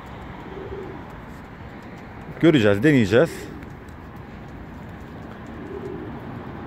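A pigeon gives a short, throaty cooing call that rises and falls for about a second, with someone talking softly before and after.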